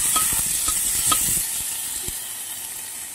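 Chopped tomato frying with onion in a pan gives a steady bright sizzle, with a spatula scraping and stirring in quick strokes early on, close and alone without talk.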